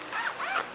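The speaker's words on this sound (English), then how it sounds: "They both zip, open and close." A BBQ resting blanket's zipper slides open in one continuous, close and fairly loud zip lasting under a second, with a rising and falling rasp and no voices.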